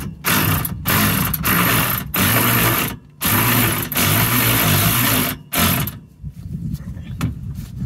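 Socket wrench ratcheting on an Infiniti G35 coupe exhaust install, a rapid metallic clicking in several loud close bursts separated by short pauses, fading to quieter handling noise at the end.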